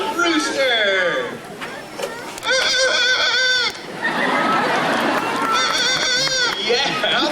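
A man imitates a rooster's crow with his voice, giving loud, drawn-out, wavering calls in separate bursts over crowd noise and chatter.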